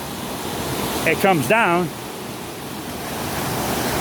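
Rapids of the East Race Waterway on the St. Joe River in South Bend, Indiana, water rushing over small blocks and objects in a steady broadband roar, with someone briefly talking over it.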